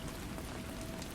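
Steady rain falls in a continuous, even hiss with dense pattering, close and fairly loud, with no voices and no thunder.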